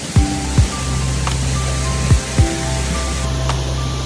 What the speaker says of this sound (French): Retrouvons Borghi devant cette belle cascade.